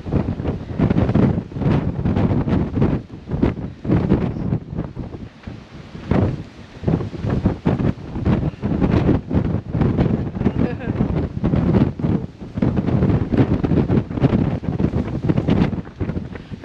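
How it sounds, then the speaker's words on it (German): Strong wind buffeting the microphone outdoors near a bridge in Pakistan, loud and constant with heavy rumbling gusts throughout, and people talking under the roar. "Ist schon starker Wind."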